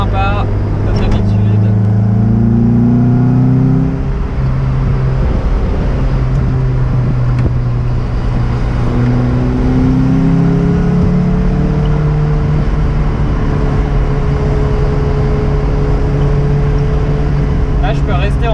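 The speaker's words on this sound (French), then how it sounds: "On a l'impression que le moteur veut que je passe la vitesse, mais non, regardez si j'appuie." A Lotus Elise engine revs hard in third gear on winding roads, rising and falling through several pulls up to about 4000 rpm, loud and close inside the car. Someone talks over it now and then.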